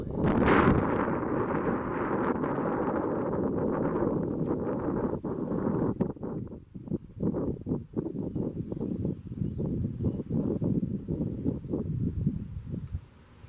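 Strong outdoor wind buffeting a microphone, a loud continuous low roar that stays steady throughout with rumbling gusts.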